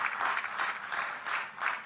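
Applause from an audience at a government project inauguration event in Panchkula, a short, steady wash of clapping with slight swells, moderately loud and heard alone without talk.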